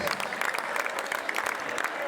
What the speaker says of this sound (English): I give yourself a big applause for the guys who's been here supporting us.